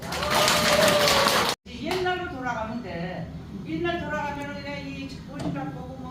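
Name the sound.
clapping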